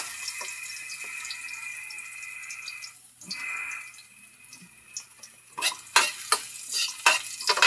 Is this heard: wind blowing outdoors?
no